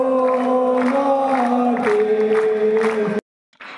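A large crowd of football fans cheers and roars continuously at the Indira Gandhi Athletic Stadium in Sarusajai during a NorthEast United FC session, loud and sustained with whoops, then cutting off abruptly near the end before a brief return.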